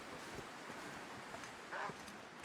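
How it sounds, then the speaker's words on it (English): Steady wind blowing across an open landscape in The Long Dark, a continuous broad rush with a brief gust near the end, heard alone. "It's windy."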